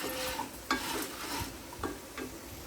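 Dry red chillies fry in a pan with a continuous sizzle. A spoon stirs them at intervals, scraping and knocking softly close by, and no one speaks.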